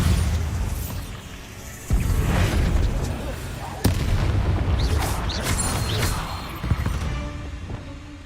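Bombarda blasting-spell explosions in the Hogwarts Legacy game boom out in heavy, rumbling bursts, several in succession over a dense, loud wash of game noise.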